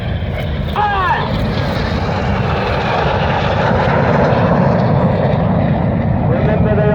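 Red Arrows jets roar loud and continuous overhead during a crossing carousel manoeuvre at the Ayr Airshow, a dense sustained jet rumble with a brief whistling sweep near the start.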